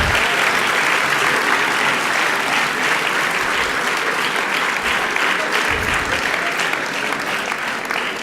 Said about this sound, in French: D'ores et déjà, je vous demande de l'applaudir bien fort